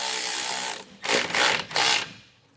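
Ratchet wrench tightening bolts on Firestone Ride-Rite rear air helper springs on a 2013 Ford, a fast buzzing ratchet run followed by two shorter bursts, close and loud.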